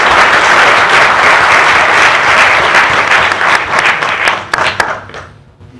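Loud audience applause at a meeting, dense clapping that holds steady, then breaks into scattered individual claps before dying away.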